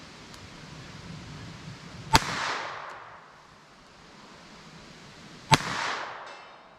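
Two sharp, close gunshots from a Beretta pocket pistol firing Norma TAC-22 .22 rounds into ballistic gel outdoors, spaced about three seconds apart, each a crisp crack followed by a short ringing decay.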